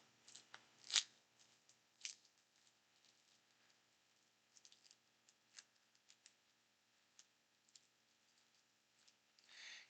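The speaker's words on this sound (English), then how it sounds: "Trying to figure out how to open this shrink wrap without damaging the cards" Shrink wrap is picked and torn open on a baseball card pack, heard as faint, scattered crinkles and sharp little snips up close in an otherwise quiet room, with a few louder crackles at the start and end.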